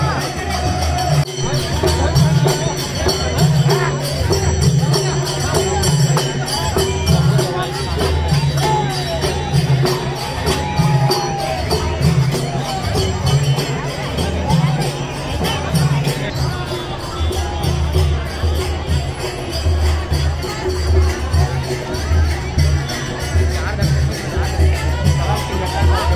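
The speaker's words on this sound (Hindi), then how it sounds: "हजारों के तादाद में भीड़ संगवारी हो" A dense crowd of thousands packs a village Bana festival during Navratri in Chhattisgarh, a loud continuous hubbub of overlapping voices and chatter with scattered shouts, steady and close throughout.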